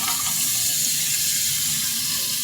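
Okra and potatoes frying in oil in a pan give a loud, steady, dense sizzle that hisses without a break and stays close up, with no voices over it.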